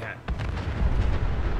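A deep, rumbling explosion in Fallout 4 Far Harbor, a giant mushroom cloud, booms and rolls on, low and heavy, with a muffled voice briefly audible underneath.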